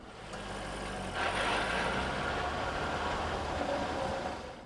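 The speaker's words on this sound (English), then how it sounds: "Some customers have asked about a mechanical buzz or rattle noise coming from underneath the car." Mechanical buzz and rattle from the driveline beneath a 2001 Chevrolet Corvette C5, a steady broadband drone with low rumble that swells slightly after a second, continuous and fairly loud with no talk.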